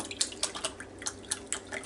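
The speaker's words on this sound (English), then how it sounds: "Take your mushroom soup, put it in I put it in a measuring cup." Canned mushroom soup is poured into a measuring cup, giving a quick run of small wet plops and drips, close and fairly loud, with no voices.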